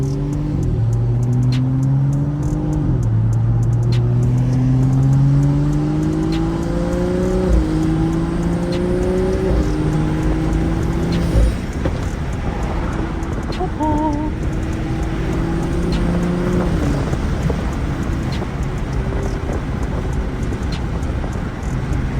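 A BMW with the N55 engine running flex fuel accelerates hard, its engine note climbing repeatedly through several gears with brief dips at each shift, heard from inside the car and loud throughout.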